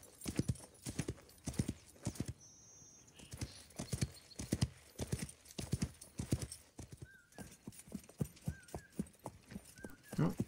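A horse's hooves clip-clop steadily in the Wild West Online video game, with a rhythmic, close gallop throughout and a brief whinny partway through.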